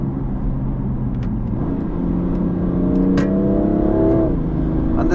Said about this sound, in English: it is literally a pull on the paddle and the gears do change. Here you go, downshifting.